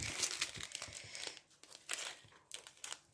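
Crumpled plastic sachets crinkle and crumple up close in a series of irregular crackling bursts with brief pauses between them.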